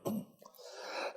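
A person coughs once sharply near the start, followed by faint breathy throat noise, quiet and close in an indoor setting.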